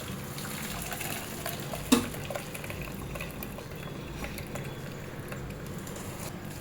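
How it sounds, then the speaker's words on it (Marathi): Soft continuous watery rush of water draining from cooked Maggi noodles through a strainer, with a brief clatter near the two-second mark; no talking. "त्यामध्ये आता आपण हे जे मॅगी आहे हे पूर्ण गाळून घेणार आहोत"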